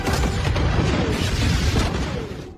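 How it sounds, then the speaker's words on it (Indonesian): A gasoline-filled barrel shot during a film action gunfight bursts in a huge explosion, a loud, close, rumbling boom that rolls on heavily for over two seconds before starting to fade. "Beruntung Lily dapat menembak tong berisi bensin yang ada di sana hingga terjadilah ledakan besar"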